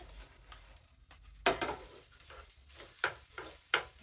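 Green beans charring in a hot skillet, with a soft sizzle under intermittent stirring scrapes and clinks of a utensil against the pan.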